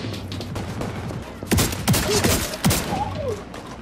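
An 8-round gun in the video game The Division 2 fires a quick series of loud, sharp shots in close succession over steady background game noise.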